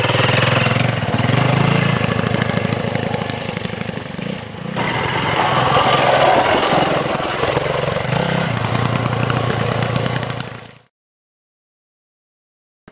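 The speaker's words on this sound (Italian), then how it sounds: "La moto è già pronta per salire, Damiano è tutto avanti, gomiti larghi" An enduro motorcycle engine runs steadily at a constant mid-pitched drone for about ten seconds, briefly dips and then picks up again before cutting off abruptly into silence.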